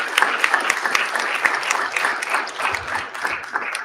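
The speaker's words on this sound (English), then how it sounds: "Let's give them one more round of applause." An audience at a Norwalk city council meeting applauds continuously, a dense, moderately loud wash of many hands clapping that holds steady throughout with a few sharper claps standing out.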